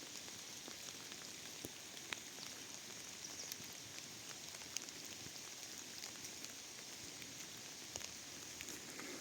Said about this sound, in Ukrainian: Це такий дощ, який і видно, і чути